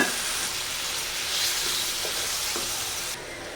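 A paste of ground chili, garlic and cumin fries in a pan with a dense, even hiss that stays close and loud, then drops a little in level just before the end, with no voices.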